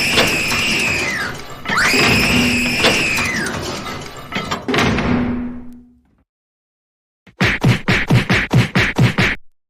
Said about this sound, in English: we're tired of you screaming and slamming doors at your own age.